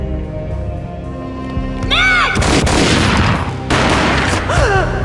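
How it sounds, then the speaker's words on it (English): A gunshot in the video game Max Payne, a loud, heavy boom that erupts abruptly and rumbles on for over a second, followed by another burst of noise amid sweeping whistle-like game sounds. "A gunshot boomed and she fell down in slow motion."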